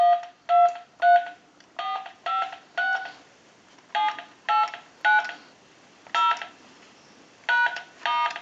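A wall telephone, a Spirit of St. Louis wooden set under repair, sends out a sequence of about a dozen crisp touch-tone dialing beeps in uneven groups, each a short clear tone with brief gaps between.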